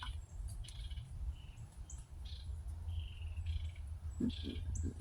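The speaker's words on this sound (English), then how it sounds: "Those birds aren't familiar with me." Birds calling outdoors at a new location, with scattered faint chirps and short whistles over a low steady background murmur and insect-like buzzing.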